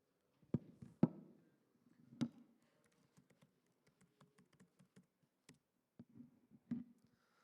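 Someone types a password on a computer keyboard, with sparse, irregular, quiet clicks and taps spaced through a nearly silent room, a few keystrokes landing harder than the rest.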